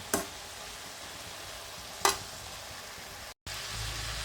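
A cabbage stir-fry is stirred in a pan as grated coconut goes in, two sharp scrapes of the spoon standing out over a faint, steady sizzle, with a brief dropout near the end.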